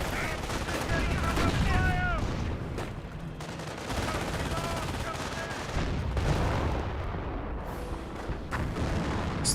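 Dense, continuous gunfire and heavy booms in the WWII strategy game Company of Heroes, including flak and anti-tank guns. The fire rattles on throughout, loud and layered, with a voice talking intermittently over it.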